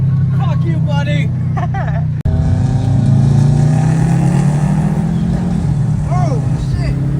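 A BMW E39 540i accelerates hard on a street in Jalisco, Mexico, its engine note climbing steadily and loud and close inside the car, with voices talking over the first part.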